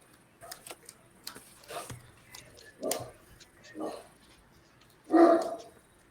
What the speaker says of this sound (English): Somebody's dog is not happy.